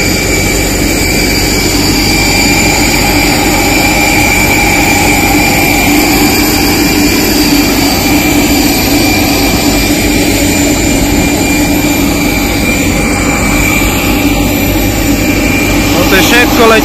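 Steady, loud jet-engine roar fills the airliner cabin throughout a flight to Slovakia, a constant broadband drone with a low rumble and faint high whine, while voices talk quietly underneath.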